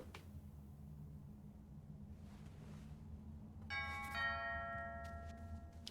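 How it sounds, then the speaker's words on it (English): A doorbell chime in the video game Fall of Porcupine rings out as a short burst of bright tones over a low steady background hum, moderately loud and heard alone without speech. "I hate that doorbell sound!"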